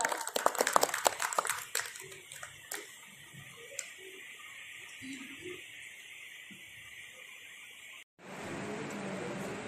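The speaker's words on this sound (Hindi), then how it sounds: "करताल ध्वनि के साथ में, तालियों के साथ में आदरणीय श्री का स्वागत किया जाए।" Audience applause and clapping at an honour ceremony for army medal winners, war widows and freedom fighters, with loud dense clapping in the first seconds that thins into scattered claps over a steady outdoor murmur, followed by a brief cut and a renewed wash of noise.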